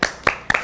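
Three sharp hand claps, rhythmic and close, spaced roughly evenly with the last one doubled, in a children's clapping song during Quran recitation lessons.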